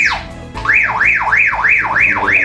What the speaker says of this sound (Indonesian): Apabila kita tekan agak lama tombol call warna oranye ini, maka akan berbunyi alarm